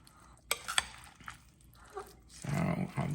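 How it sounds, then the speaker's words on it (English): A spoon gently folds egg salad with mayonnaise in a bowl, giving a few light clinks followed by a soft, wet mixing sound near the end. A person talks over it. "I'm just kind of folding it because you do not want to break up those eggs"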